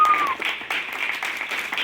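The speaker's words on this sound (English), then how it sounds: "let's give a round of applause to our favorite poet." Applause from a book launch audience for a poet, moderately close. Scattered clapping comes in uneven bursts, with a brief tonal squeak at the start.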